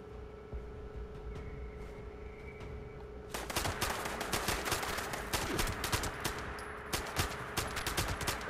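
Gunfire in the video game Fallout 76 breaks out after a quieter stretch of low hum and scattered clicks, becoming dense rapid bursts of shots that continue for the rest of the clip.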